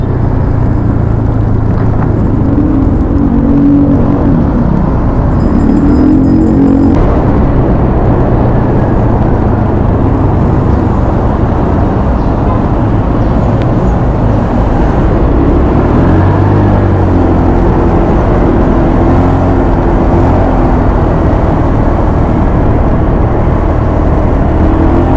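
Honda Click scooter engine running steadily while riding along a subdivision road toward Katipunan, Quezon City, a continuous close low hum with wind rush, no talk.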